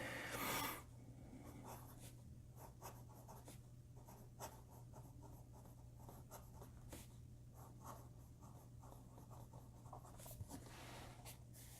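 Fountain pen with a Jinhao 51A hood nib scratching across paper in a steady run of short, close strokes, faint and alone under a low steady hum.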